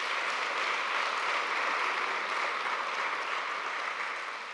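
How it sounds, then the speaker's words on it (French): Loud, sustained applause from an audience honoring donors at a foundation event, steady dense clapping throughout that eases slightly at the end. "Et je voudrais qu'on les applaudisse très très fort."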